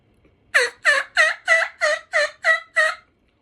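A turkey hunting call gives a run of eight loud, evenly spaced yelping notes, sharp and close, in a quick steady rhythm before falling silent.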